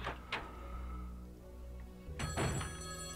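A telephone rings in the Resident Evil Codename HUNK DOOM mod, a couple of electronic ring bursts over a low game hum.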